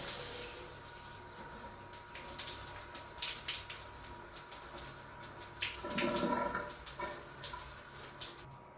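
A hotel shower in a cheap Bangkok hotel runs water from the tap in a steady, close hiss that stays unbroken from start to finish, with a brief swell partway through.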